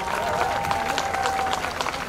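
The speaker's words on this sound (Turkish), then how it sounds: "çok büyük bir alkış" An outdoor crowd at a Victory Day celebration in Bornova applauds, with dense, sustained clapping and cheering and a voice over it.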